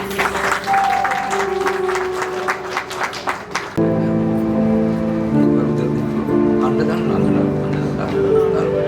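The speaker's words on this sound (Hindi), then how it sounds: "आप ताली बजा सकते हैं।" Clapping from a group begins after a few seconds of talking, a dense patter of hands that continues with music-like tones underneath.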